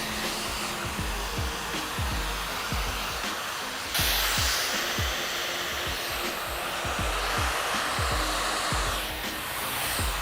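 Hair dryer fitted with a diffuser blowing on curly hair, a loud, close, continuous whooshing roar with a rhythmic pulsing flutter as it moves, with no one speaking.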